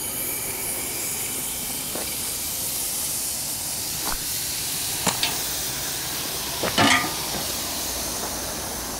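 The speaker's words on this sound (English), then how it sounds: "So much water went in the boiler, so I don't want to kill the steam." Steady, loud steam hiss from the new boiler of a large steam engine runs continuously throughout, broken by a few short clanks and knocks near the end.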